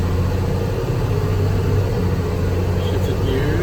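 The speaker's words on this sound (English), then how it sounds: "Alright, there's the vibration. Now, it's a high-speed vibration." Constant loud rumble of a car driving at speed, carrying a steady low vibration from the driveline, a continuous drone with no distinct breaks.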